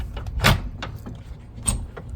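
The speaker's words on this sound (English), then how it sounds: "So when you shut it, you don't have to slam it, just close it like a regular door." A screen door on a Dynamax Isata 5 Class C motorhome built on a Ram 5500 4x4 chassis is shut gently, giving a soft latching clack followed by a lighter rattle and small clicks.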